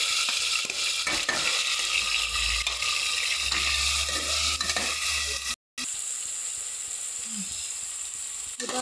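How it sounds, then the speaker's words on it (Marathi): Loud, continuous sizzling and hissing of onion, ginger, garlic and tomato frying in hot oil as a tempering for chicken biryani, with occasional stirring scrapes, a brief cut of silence, then more sizzling. "छानपैकी आपलं कांदा, अद्रक लसूण, टोमॅटो मस्त हे फोडणी करून घेऊ"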